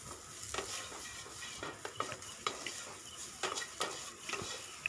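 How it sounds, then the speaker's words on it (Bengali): Pasta stirred over a low flame in a frying pan with turmeric and chili powder, with soft scraping and clinking of a utensil against the pan over a light, steady sizzle, close and fairly quiet. "তো এটা আমি লো ফ্লেমে একদম নাড়াচাড়া করে নেব"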